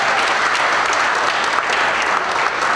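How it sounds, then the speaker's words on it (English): Dense, steady applause from a large crowd for drag racing legend Don Garlits at the 2017 Challenger Dream Giveaway, sustained and loud throughout. "Let's give him a round of applause"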